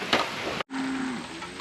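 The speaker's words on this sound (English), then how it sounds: "So the cows are over there across the creek, as you can see." A cow, one of a herd of heifers across a creek, gives a single moo, steady and somewhat distant, over open outdoor air.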